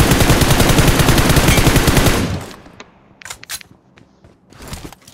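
Rapid automatic gunfire from the mobile battle-royale game PUBG Mobile rattles loudly and continuously for about two seconds, then gives way to quieter scattered distant shots and clicks.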